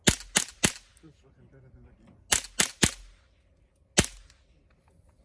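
Several sharp gunshots from a handgun ring out in quick clusters: three close together, three more after a pause, then one last shot, loud and near, with a brief voice in between.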